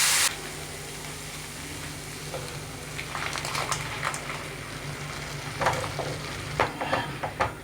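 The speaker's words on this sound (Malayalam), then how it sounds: "1 മിനിറ്റ് ഒന്ന് ഇളക്കി കൊടുക്കാം." Tomato sauce with chili flakes sizzling in a pan while being stirred for lasagna, a constant frying hiss broken by several scraping spoon strokes near the end, with no voices.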